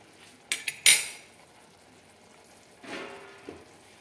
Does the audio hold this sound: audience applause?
no